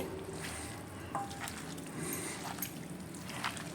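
Two cubes of butter melt and sizzle in a pan for lazy chicken, a soft steady fizz with faint bubbling and light clinks, close but quiet.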